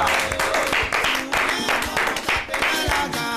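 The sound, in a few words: audience applause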